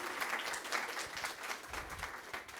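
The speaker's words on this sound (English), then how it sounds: "So we can start with a round of applause." A conference audience gathered for best paper awards at a machine learning session gives a round of applause, heard faint and distant as a steady wash of clapping across the hall.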